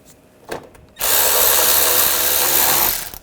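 A power tool drives bolts on a 2009-2010 BMW 535i xDrive front bumper cover: after a brief click, one loud steady whir lasts about two seconds, close up, with no talking.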